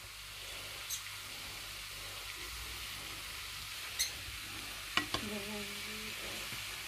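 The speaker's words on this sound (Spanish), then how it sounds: "los champiñones que se rehoguen con la mantequilla" Button mushrooms for a batch of tortillas sautéing in butter in a pan, a steady soft sizzle with occasional stirring clicks and a couple of sharper knocks near the end, no talking.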